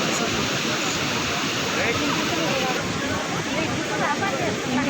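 Water gushing from the opened gates of Himayat Sagar dam, a loud, steady broadband roar filling the whole clip up close, with no pauses and no clear voices above it.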